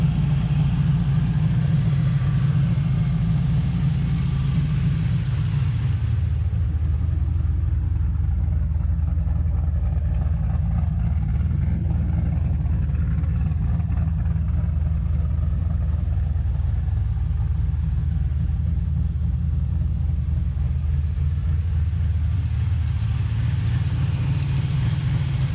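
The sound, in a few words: turbo LSx engine in RX7 cranked up and running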